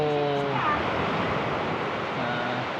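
Sea water waves wash and surge at a beach in a continuous broad roar, loud and close, mixed with wind rumble on the microphone, while a faint voice hums briefly at the start.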